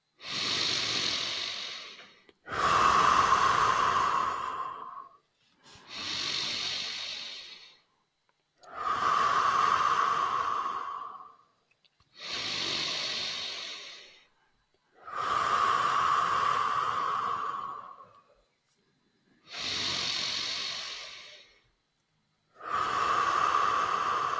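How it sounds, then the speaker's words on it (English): Deep breathwork breathing during a round of slow, full breaths: long loud inhales and exhales close to the mic, about eight rushing breaths with short silent gaps between them, and no speech. "Round 2. 5 deep breath."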